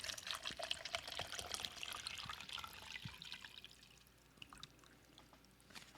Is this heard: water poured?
yes